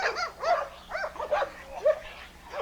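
An American bulldog at bite work in a yard lets out sharp, high yipping barks and whimpers in quick succession, close by, over a faint steady low hum.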